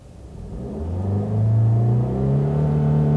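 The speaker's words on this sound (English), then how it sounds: "you want to move over to the gas pedal, mm-hmm, and then add some gas." Manual-transmission car pulling away as gas is added after the clutch, its engine rising in a steady, building rev, close and loud, with no talk over it.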